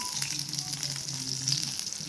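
Eggplant pieces fry lightly in oil for a vegetarian Bengali eggplant dish, a steady close crackling sizzle with a faint low hum underneath and no talk.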